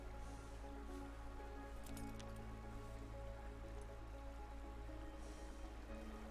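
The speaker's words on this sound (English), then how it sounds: "This is rainy and sun's not out" Steady rain falls in Red Dead Redemption 2 (RedM), a constant soft hiss with scattered drips and patters throughout, fairly quiet and without talk.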